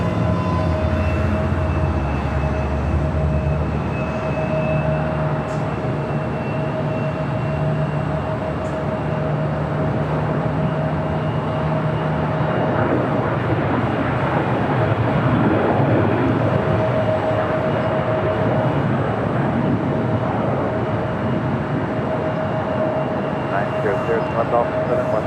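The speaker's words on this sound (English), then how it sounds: "All right, Eva Air, Flight 12, 777, up next on the north side." An Eva Air Boeing 777 jet airliner at LAX, its turbine engines heard as a steady, fairly distant whine and rumble that persists throughout, with someone talking over it for much of the time.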